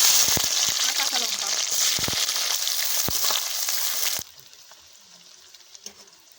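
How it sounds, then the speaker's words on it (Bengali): Chopped onion goes into hot oil with bay leaves, cinnamon, cloves and cardamom for a chicken leg masala curry. A loud, steady crackling sizzle with scattered pops stops abruptly, leaving near silence with a few faint clicks. "এখন তেলের মধ্যে দু তিনটে তেজপাতা দারচিনি লবঙ্গ আর এলাচ দিয়ে দিচ্ছি এখন দিয়ে দিচ্ছি পেঁয়াজ কুচি"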